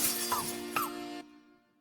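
A giant chess piece in the game Iwaihime smashes and shatters with two bright glassy crashes in quick succession, its ringing tone cutting off abruptly into a quiet fading tail.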